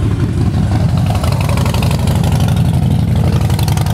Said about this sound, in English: Fire it off and let you give it a listen.